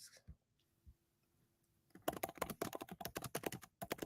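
Fingers type on a computer keyboard in a quick burst of close, crisp key clicks after a couple of soft isolated taps and a near-silent pause.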